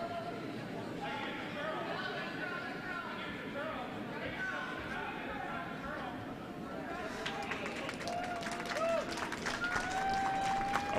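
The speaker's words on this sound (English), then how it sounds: "Applause in the war room, congratulating the participants from Sheet A." Scattered applause and chatter in a curling event's war room, a busy murmur of voices with clapping that grows livelier toward the end.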